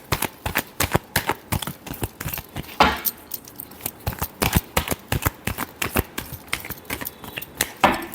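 A deck of cards is shuffled close up during a weekly horoscope reading, giving rapid crisp clicking and riffling flurries that continue steadily without talk.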